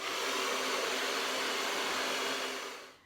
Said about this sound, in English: you can just use a hairdryer just so that it melts the product into the hair shaft